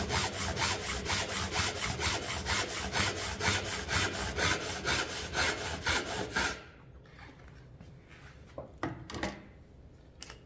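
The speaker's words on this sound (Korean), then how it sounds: "톱판이 가이드에서 떨어지는지 안 떨어지는지만 보고서 잡아 당기거나 밀거나 이제 톱질을 하게 되면" An Ikedame dozuki Japanese back saw cuts wood for a dovetail joint, run against a saw guide. Fast, even push-pull rasping strokes repeat closely for about six seconds, then stop, leaving a few faint knocks and scrapes.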